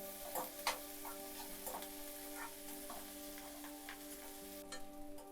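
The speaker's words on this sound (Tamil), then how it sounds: "அது கூட சேர்த்தே வதக்கி கொடுங்க வெங்காயமும் பச்சை மிளகாவும் கொஞ்சம் வதங்கும் போது கழுவி வச்சுருக்க கருவேப்பிலை லைட்டாக வதங்கட்டும்" Onions, green chilies and curry leaves sautéing in a pan for fish puttu, a soft steady sizzle with light scattered ticks and stirring taps, faint and without speech.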